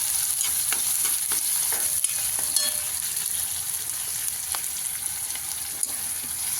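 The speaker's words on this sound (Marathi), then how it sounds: "मग आता आपण कांदा टाकून घेतलेला आता लाल होईपर्यंत त्याला हलवून घे" Chopped onions fry steadily in hot oil in a pan, a continuous bright sizzle broken by frequent scraping stirs of a spoon, close and fairly loud, with no talking.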